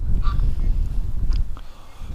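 A domestic duck kept in a pen gives a few loud, close honking calls in short bursts, set against a low rumbling background.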